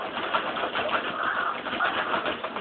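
Pigeons or doves coo and rustle steadily while being caught with a net near a tank, set against a dense, continuous bird noise.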